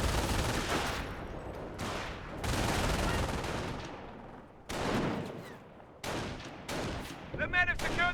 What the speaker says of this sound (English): Lieutenant takes some fire there.